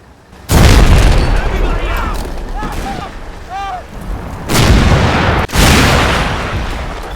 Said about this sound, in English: The ammunition detonates